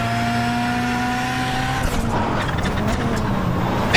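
A VW Beetle rallycross car at Charlotte in iRacing holds a steady, buzzing engine note that breaks into harsher revving and tire scrubbing partway through, loud and close throughout.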